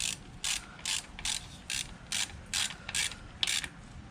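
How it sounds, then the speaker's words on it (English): A 3/8-inch ratchet with a 10mm socket snugging bolts down on a 2016 Scion iM during spark plug replacement: eight or nine evenly spaced bursts of sharp clicking, close and clear, with no speech. "Then we'll take our 3/8 ratchet with the 10mm socket and just tighten these down"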